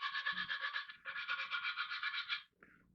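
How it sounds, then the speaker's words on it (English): A wooden Quaker Boy Bulldozer moose call is rubbed back and forth with a Scotch pad, giving a rapid, rhythmic scratching in two long bursts with a short pause between them, close and fairly quiet. "You have to sand it back and forth with the Scotch pad that comes with the call."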